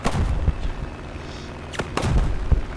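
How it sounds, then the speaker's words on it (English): Bombs dropped from a Br.20 bomber in War Thunder detonate below, a series of muffled booms and thuds spread over a few seconds beneath a steady engine drone. "Bombs out."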